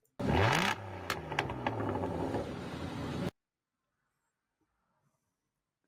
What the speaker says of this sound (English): It's actually a 2009 Aston Martin DB9.